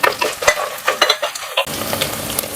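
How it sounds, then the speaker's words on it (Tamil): Dried red chillies hit hot oil in a pan and sizzle loudly and close. Stirring scrapes and crackles come in quick bursts, then settle into a steady fry. "காஞ்ச மிளகா சேர்த்துடலாம்."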